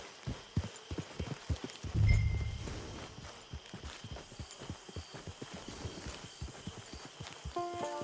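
Horse hooves clip-clop at a steady walking pace in the Red Dead Online video game, a close, regular stream of soft thuds running throughout, with a brief low rumble partway through and faint tonal game sounds near the end.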